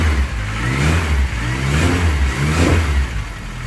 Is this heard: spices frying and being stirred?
no